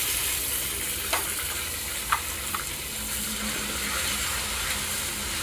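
Whole cumin seeds and tomato fry in a hot pan, a continuous soft sizzle with a few sharp spatula knocks against the metal along the way.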